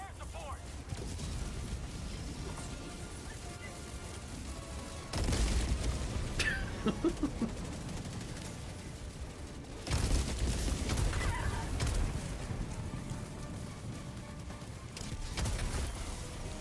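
Deep booming explosions in a video game burst out twice amid a constant rumble of battle noise, with a voice talking faintly underneath.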